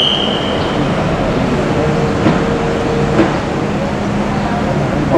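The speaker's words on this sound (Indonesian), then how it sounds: "ini kereta yang akan diberangkatkan nomor G1126 jam 10:20 dari Tegaluar menuju Halim." High-speed Whoosh train standing at platform 2 of Tegaluar station before departing for Halim, a steady loud rail rumble and hum filling the platform, with a brief high whine early on and voices mixed in.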